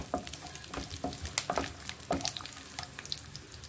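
Upma ingredients frying slowly in oil over low heat, with soft sizzling broken up by irregular scraping and stirring clicks from a spoon in the pan, close by and with no voices.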